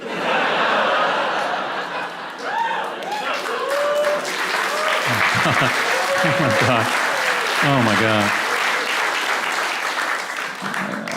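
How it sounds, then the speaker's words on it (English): A stand-up comedy audience bursts into sustained applause mixed with chuckles and laughter, while a voice speaks over the clapping. "I can't believe you applauded at that."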